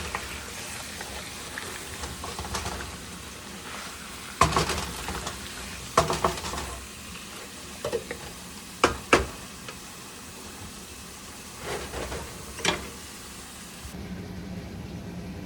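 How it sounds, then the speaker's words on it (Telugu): Onions frying in oil with chicken, stirred in a pan with a spoon: steady close sizzle under repeated scraping and clanking stir strokes, no talk. "మంచిగా వీటిని తిప్పి ఆయిల్లో ఫ్రై అయితే ఆనియన్స్ అన్నీ మిక్స్ అయ్యి టెండర్ చాలా బాగుంటుంది"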